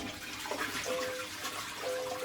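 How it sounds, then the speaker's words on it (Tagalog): A Japanese toilet in a small apartment flushes with a rushing gurgle of water, moderately close, with a faint tone sounding twice underneath and no voices. "Ang pinaka-cool para nako is pag flush na mo."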